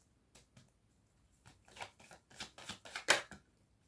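Tarot cards being shuffled by hand, soft papery riffles building into quick, close flurries, then stopping in a quiet room.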